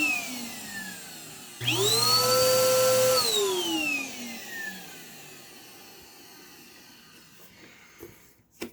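An old vacuum cleaner with weak suction starts up loud, its motor whine rising, holding steady, then winding down over several seconds into a fading hum.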